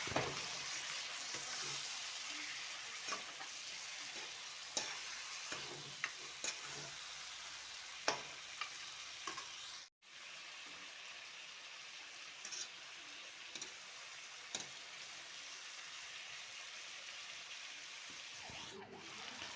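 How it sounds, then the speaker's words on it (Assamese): Mutton frying in a pan produces a faint, continuous sizzle with scattered small pops and clicks, low in level throughout with no talking. "ভালদৰে ভাজি লওঁ।"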